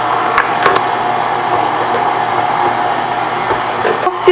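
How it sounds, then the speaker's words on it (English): A stand mixer with a paddle attachment whirs steadily as sifted flour is slowly mixed into batter, a continuous close motor drone with a few faint knocks and no talking. "now I'm changing my attachment to this paddle attachment. And now slowly I'm mixing in my sifted flour."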